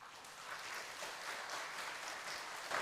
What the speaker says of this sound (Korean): 일어나시고 우리 큰 박수 해주시기 바랍니다